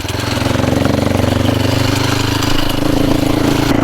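A motorbike idles on a rough, unpaved rural road to a hill temple in Nepal, its engine putting out a loud, close, steady chugging rumble that holds even for a few seconds, with no voices over it.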